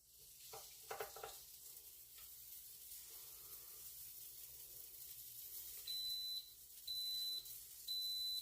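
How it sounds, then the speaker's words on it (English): A Mickey Mouse waffle maker beeps three times in a steady rhythm to signal a finished batch of churro waffles, each tone fairly loud and sustained against a faint kitchen hum with some earlier clatter. "the other batch that just beeped, that means it's done"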